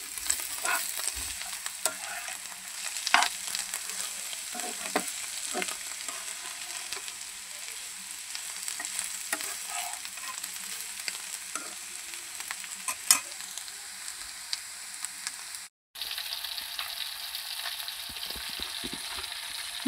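Fish fries in a pan on a home stove, a close, steady sizzle with crackles and scraping stirs throughout and one brief break near the end.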